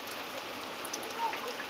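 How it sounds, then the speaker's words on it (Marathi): Heavy monsoon rain pours steadily in Nashik district, a dense, even hiss of falling water that holds without a break and sounds close by. "लाईव्ह मित्रांनो पाऊस दाखवत आहे मित्रांनो. किती पाऊस पडत आहे, किती पाणी पडत आहे."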